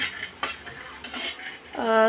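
Ingredients for a spicy potato and flat-bean curry are dry roasted in a pan, with a few distinct scraping and stirring strokes against the metal. A voice speaks briefly near the end.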